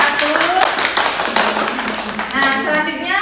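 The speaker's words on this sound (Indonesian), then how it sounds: "Oke, beri tepuk tangan dulu untuk kelompok" Clapping from a classroom of students for a student group, a steady patter of hands with voices talking over and around it.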